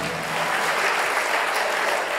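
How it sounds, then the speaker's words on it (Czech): A studio audience at a television talk show claps continuously, a dense, even wash of applause that holds steady throughout with no speech over it. "Ne, to tleskají lidi."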